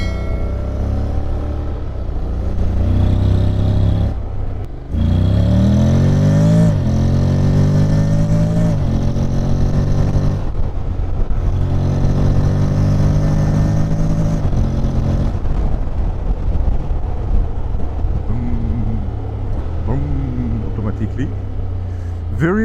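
Honda X-ADV 750 scooter with DCT gearbox, 2021 model, accelerating hard in sport mode: a loud, close engine rises in pitch through repeated revving surges and gear shifts, with a brief drop near the fifth second, and speech may sound over it.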